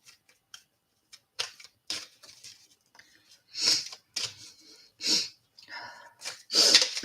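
A person sneezes in a short fit of sharp bursts, close and fairly loud, with breathy sounds and some talking in between.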